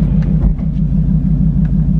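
A 2024 Ford Mustang engine in drag strip mode with traction off drones low and heavy, a continuous close rumble with slight pulsing and no pauses.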